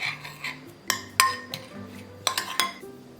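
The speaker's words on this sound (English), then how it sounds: "First, to give the dry ingredients a little mix." Flour, sugar and cinnamon are stirred in a bowl with a utensil, giving several close, light clinks and taps against the bowl in an uneven rhythm, with no talk.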